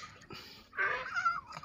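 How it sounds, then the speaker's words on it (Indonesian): A cat gives a single drawn-out meow, soft and fairly close, after a brief faint sound at the start. "Ini juga kucing teman-teman ikut juga"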